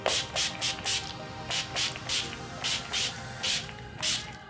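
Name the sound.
makeup setting spray being sprayed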